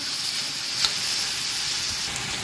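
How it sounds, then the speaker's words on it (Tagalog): Pork sizzles steadily as it sautés with ginger in a hot pan for humba, a continuous close frying hiss with one brief brighter crackle and no voices. "Una, ako siyang igisa sa luya para mawala ang lansa."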